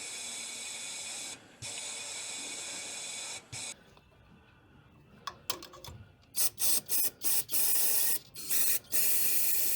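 Aerosol cleaner blasted through a VW Beetle fuel line via a red tip nozzle: long loud hissing sprays, a pause, then a rapid series of short bursts, close and alone.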